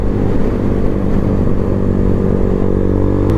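A Lexmoto Hawk 125 motorcycle cruising along a road, its steady, loud engine drone low and continuous, heard from the rider's position with little change in pitch.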